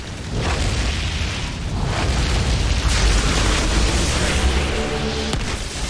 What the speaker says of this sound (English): Wow, a lot of explosions.